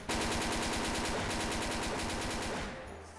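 A Tommy gun fires in one loud, unbroken burst of rapid automatic shots during a Christmas weapon test, close by and steady for about three seconds before it cuts off abruptly.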